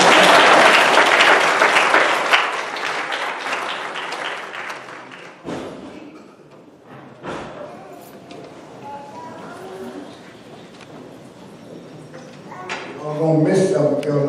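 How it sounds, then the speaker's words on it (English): Audience applause at a community forum, loud and dense at the start, then thinning into scattered claps and crowd murmur, with talking and thumps near the end. "We applaud at this time."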